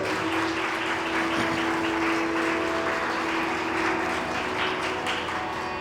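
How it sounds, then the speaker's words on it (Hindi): Loud, sustained clapping from a large crowd at a Ram Katha religious discourse fills the whole stretch, dense and continuous with no talking. "जोरदार तालियों से स्वागत करें।"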